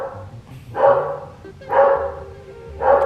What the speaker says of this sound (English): he will bark at any dog that walks by